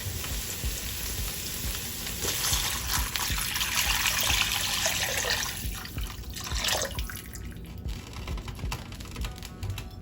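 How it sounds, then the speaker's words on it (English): Home pressure-canned chicken stock pours from a jar into a soup pot, giving a continuous splashing, sizzly liquid rush that runs for several seconds with no talking. "So why don't we pour in our pressure canned chicken stock."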